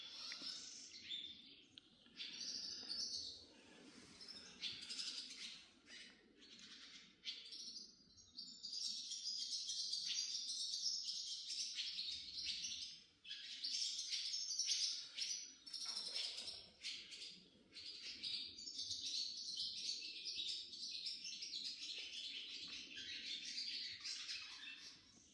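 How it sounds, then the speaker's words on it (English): Birds call and chirp steadily outdoors beside the old Chapel of St Peter-on-the-Wall, a mix of squawks and tweets continuing throughout, fairly close and clear, with no talking. "Hear the birds outside."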